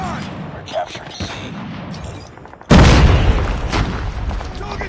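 A grenade blows up in a Call of Duty battle, one loud close blast that cuts through radio chatter and distant gunfire, followed by a long rumbling decay of debris and noise.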